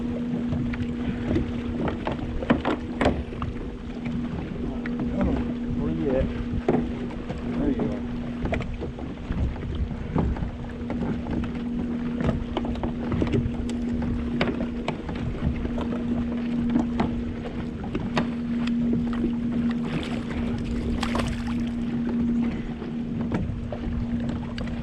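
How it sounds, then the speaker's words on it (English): Strong wind buffets the microphone during kayak fishing for catfish on the water, a constant rough roar with gusty rumbling and a steady hum throughout. "this wind is ridiculous today."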